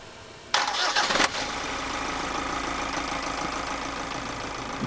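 A motor turns over with a short cranking burst, then catches and settles into a steady, even idle that runs on alone without talk.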